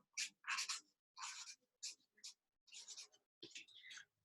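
Pen or marker writing on paper for a children's map craft, a series of short, close scratchy strokes in quiet bursts with brief pauses between.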